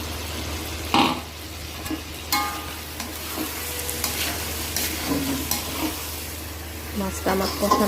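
Guchoi fish stirred and sizzling in hot oil in a pan, a steady frying hiss broken by scraping stirs and occasional clatter of the spoon, close and without talk.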